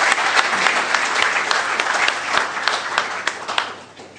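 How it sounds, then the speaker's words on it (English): Audience applause at a talk welcoming Pavan Verma, dense sustained clapping from a crowd filling the room, steady then fading slightly at the end. "give a round of applause to Mr. Pavan Verma"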